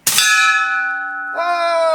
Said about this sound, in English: Yeah, the ding was louder than the gun.